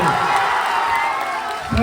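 At a Lok Janshakti Party (Ram Vilas) public rally for Chirag Paswan, a large outdoor crowd claps and cheers in a dense, continuous wash of applause and shouts.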